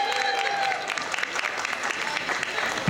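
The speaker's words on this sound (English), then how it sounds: "Give her a big round of applause" Outdoor festival crowd in London's Trafalgar Square applauding at a Diwali celebration, dense steady clapping from many people, loud and sustained for the whole stretch, with faint voices mixed in.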